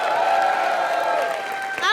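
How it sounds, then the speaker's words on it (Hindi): Studio audience applause and cheering on a live Hindi comedy show, a dense sustained wash of clapping with steady sung or tonal sound running underneath, ending with a brief burst. "तालियां। भाई वाह।"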